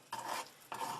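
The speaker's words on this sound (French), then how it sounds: "On remue avec une cuillère en bois." A wooden spoon stirs thick homemade play dough in a saucepan on the stove, making two scraping, sizzling strokes separated by a short pause.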